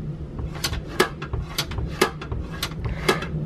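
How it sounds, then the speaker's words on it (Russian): A car door is opened and shut several times in a regular rhythm, each swing ending in a sharp knock, with a faint rattle of loose parts inside the door. The sound is close and clear, with no voices. "И когда дверь вот так вот Закрываешь, открываешь, слышно, там детальки в двери болтаются."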